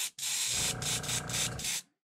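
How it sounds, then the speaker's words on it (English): An airbrush sprays paint onto a deep-diving crankbait shad lure in a steady hiss, broken into several short bursts about a second apart, close and clear with no talking. "I'm gonna turn this down a little bit so I don't spray too much down the sides"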